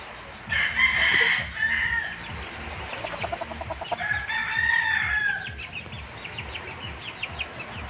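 A Yellow Leghorn rooster crows nearby, two loud drawn-out crows a few seconds apart, with soft clucking and faint farmyard sounds around them.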